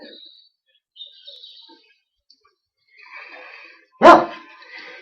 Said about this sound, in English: Every time there's a dog in the video, she's barking at it, even if it's herself.